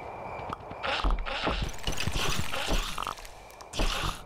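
Rhythmic clip-clop of horse hooves in the video game Kingdom: New Lands, a few close hoofbeats with creaks and mechanical clatter around them.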